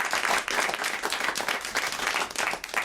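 Studio audience applause on a French television show, saluting the French handball team's triple Olympic, world and European title; steady, dense clapping fills the whole stretch at an even level with no voices on top.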